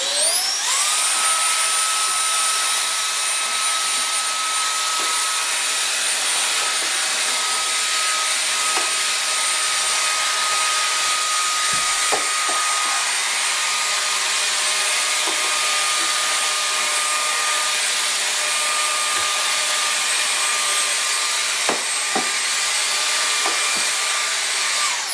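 A Cecotec Rockstar 500 cordless vacuum cleaner runs steadily and loudly throughout, its high motor whine holding constant with brief bumps and shifts as the brush moves across the floor.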